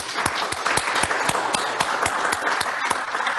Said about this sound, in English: So another round of applause for all the speakers and also